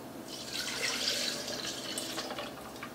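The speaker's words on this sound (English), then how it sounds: "Then we add our orange juice." Orange juice pours into a blender holding crushed ice for homemade orangeade, a soft steady liquid splash and trickle lasting a few seconds, fairly quiet and with no voices.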